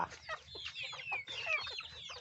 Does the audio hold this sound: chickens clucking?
yes